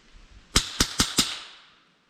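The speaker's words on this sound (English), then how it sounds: "So let's give it 4 more shots here and see what kind of visual we are getting downrange." Four crisp airgun shots firing tracer rounds downrange, evenly spaced sharp cracks in quick succession, each with a short trailing echo that fades out afterward.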